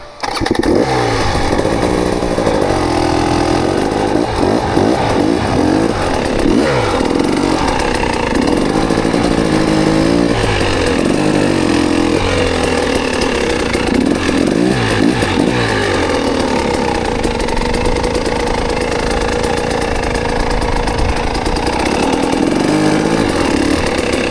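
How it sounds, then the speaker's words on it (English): A motorcycle engine runs loud and close as the bike is parked beside another, a steady, rough drone that holds throughout with slight shifts in revs. "Let's see if I can park my bike next to Bobby's here"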